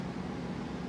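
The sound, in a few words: air conditioner roaring in a motorhome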